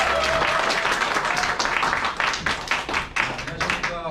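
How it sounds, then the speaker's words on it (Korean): A seminar audience at a Gwanghwamun center claps steadily and loudly for a few seconds as a presenter is welcomed, dense applause that begins to thin toward the end. "큰 박수 부탁드립니다."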